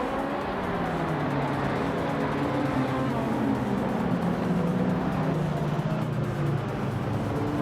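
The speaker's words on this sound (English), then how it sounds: "The cars are revving up at Wakefield Park" Race cars rev at Wakefield Park, the pack led by a 1987 Ferrari F40, with a loud, sustained engine drone whose pitch rises and falls as the cars accelerate together.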